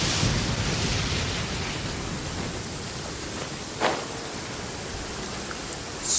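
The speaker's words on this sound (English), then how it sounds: "It's raining and we don't have an umbrella." Rain falls in the video game Genshin Impact as an even, hissing wash of noise, with one brief louder swell partway through and no voices.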